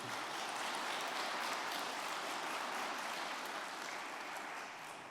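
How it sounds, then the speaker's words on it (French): A room applauds after a round-table talk on food and work, a steady, fairly faint patter of many clapping hands that holds evenly for several seconds before tapering slightly, with no voices. "On peut t'applaudir."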